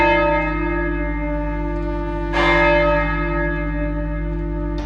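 A bell rings at night outside a housing complex, a sound effect in a ghost story: a steady, sustained ringing with a fresh strike midway that swells the tone before it hangs on and slowly fades.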